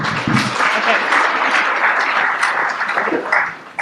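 An audience at a film discussion applauds steadily for a few seconds, a dense wash of many hands clapping that fades slightly before a final burst.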